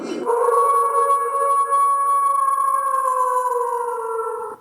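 A dog in a werewolf costume gives one long, sustained howl like a werewolf, used as a read-aloud Halloween sound effect. The tone holds steady and close and fades slightly at the end. There is no talking over it.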